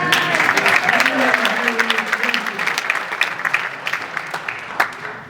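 Audience applause at a talk about paleontologist Jack Horner, dense clapping from a crowd that stays fairly steady and gradually thins toward the end, with a few louder individual claps standing out.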